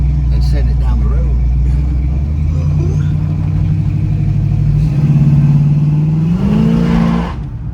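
A 1968 Pontiac Firebird convertible with a rebuilt transmission and a broken muffler accelerates through gears, its engine droning loudly and rising in pitch with a shift, while someone talks over it.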